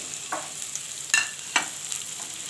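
Onion, a bay leaf, two dried red chillies and cumin are stirred in a pan for masoor dal with jute leaves. A low, steady sizzle sounds nearby, with a few crisp spatula scrapes.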